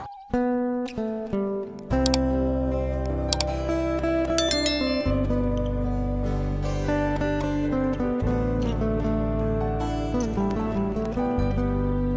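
A notification bell sound effect rings in bright, repeated chimes, opening with quick strikes before long sustained ringing tones layered over music, loud and clear throughout.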